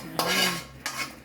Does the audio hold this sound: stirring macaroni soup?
yes